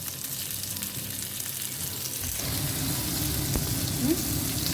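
Stuffed squid filled with prawns frying in oil, Goan style, a soft sizzle that swells into a louder, fuller hiss partway through as more oil hits the pan, continuing steadily.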